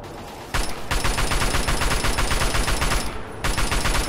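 Sustained rapid gunfire in Fallout 3, dense repeated shots running almost continuously after a brief quieter start, loud and close with no talking over it.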